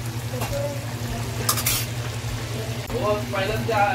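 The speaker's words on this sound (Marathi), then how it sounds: "तेल सुटेपर्यंत आपल्याला मिक्स करून घ्यायचं." Tomato purée fries in oil in a kadhai while a spoon stirs it, giving a close, steady sizzle with scraping and light clinks of utensil against the pan.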